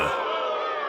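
A wrestling arena crowd at AEW Dynamite Grand Slam roars and cheers, a dense, loud sustained wash of voices over a brief second.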